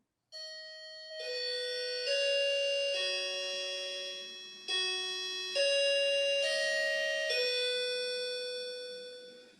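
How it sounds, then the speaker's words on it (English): A plug-in doorbell chime plays a sustained multi-note melody, clear bell-like tones stepping down and up in pitch, loud and close with no talking. "this is what our doorbell sounds like"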